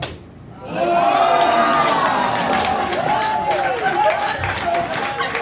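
An audience in a church or lecture hall breaks into loud applause and cheering, a dense sustained wash of clapping and shouts that starts abruptly and carries on for several seconds.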